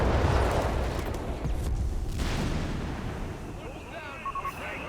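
Battlefield explosions and artillery-like booms from a smoke barrage in Company of Heroes 3, a dense, continuous rumble of blasts and bursts with narration over it.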